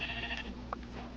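Single short sheep bleat from the video game Minecraft, a brief faint call over quiet background game ambience.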